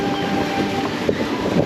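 A train rumbles past nearby, a loud, steady roar with faint rhythmic clacks of wheels on rails.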